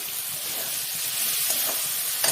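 Fried potatoes drop into a sizzling spice paste in a pan for a Bengali parshe fish curry, a steady close hiss of frying with a few soft stirring clicks near the end.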